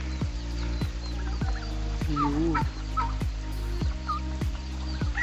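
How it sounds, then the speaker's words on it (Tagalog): Turkeys gobble repeatedly nearby on a free-range farm, rapid warbling calls over a steady low mechanical hum with regular clicking pulses. "dito sa farm ni Kuya Dan, meron din siyang mga alagang pabo"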